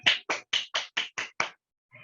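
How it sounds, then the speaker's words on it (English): Seven sharp, evenly spaced claps, close and fairly loud, from a single participant applauding a workshop speaker over an online call. A faint murmur follows after a brief pause. "If you guys can unmute or use your reaction button to give her a huge round of applause"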